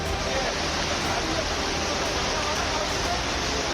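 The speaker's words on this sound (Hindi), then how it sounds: "बहाव इतना तेज है कि सड़क पर खड़े वाहन गिरकर बहे जा रहे हैं।" Floodwater in Jalore surges through town streets with enough force to sweep away parked vehicles. It makes a steady, loud broadband rush with no pauses, like a waterfall close by.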